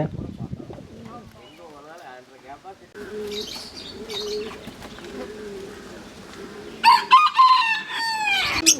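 A rooster crows loudly near the end, its call rising and breaking, after stretches of clucking chickens and other birds amid a busy animal sales farmyard in Sathyamangalam, Erode.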